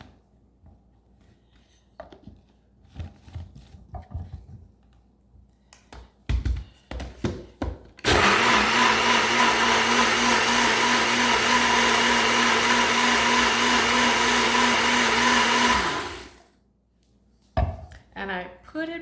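A bullet blender purées cooked cauliflower for a dairy-free soup, running loud and steady for about eight seconds after some kitchen clatter, then cutting off.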